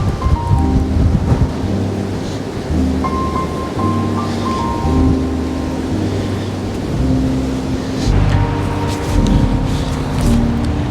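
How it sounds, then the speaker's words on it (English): Strong wind roars steadily through mixed woodland in Lancashire, England, gusting louder and softer in a broad, rushing wash with a low rumble beneath, no voices. "Very windy."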